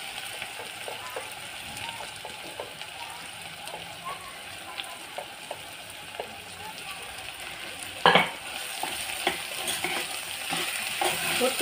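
Cubes of elephant foot yam frying in oil with salt and turmeric, giving a steady soft sizzle and crackle with occasional stirring clicks and one louder scrape near the end.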